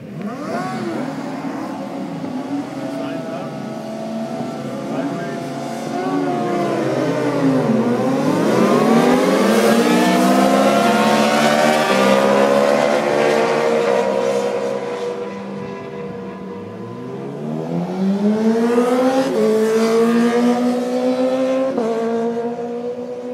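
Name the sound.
motorcycles racing on a motorcycle track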